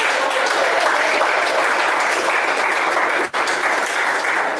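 A church congregation at a sermon on baptism claps continuously, a dense, even roar of many hands that holds steady with one brief dip.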